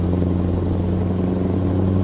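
A truck with a V8 engine sound mod in Euro Truck Simulator 2 drones with a steady, deep engine rumble, close and continuous with no talk.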